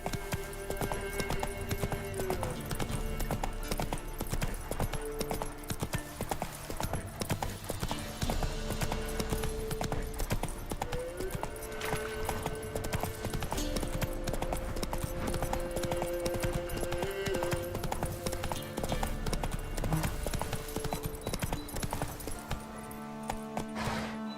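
Roach, the horse in The Witcher 3: Wild Hunt, gallops with fast, continuous hoofbeats that stay close and loud throughout, with little other sound.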